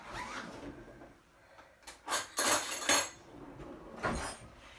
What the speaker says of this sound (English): I'm going to get me a spoon out of the jar